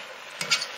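A spoon stirs spinach through a pot of Nigerian efo riro vegetable soup in one brief, close scrape with a soft wet squelch, set against a faint steady background hiss.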